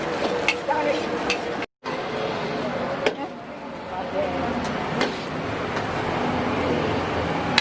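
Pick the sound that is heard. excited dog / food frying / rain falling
food frying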